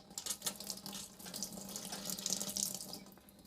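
Wine from a Winexpert Cabernet Sauvignon kit siphoning through a tube out of a carboy, a faint, steady hissing trickle of flowing liquid heard close by without talk.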